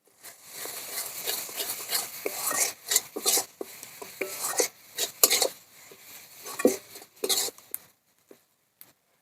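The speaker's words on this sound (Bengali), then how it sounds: "কষিয়ে নেব।" Turmeric, coriander and cumin powders frying in a pan for a Bengali Japanese puti fish curry, with repeated scraping stirs and clinks of a spoon against the pan, close and fairly loud, in irregular bursts that fall quiet near the end.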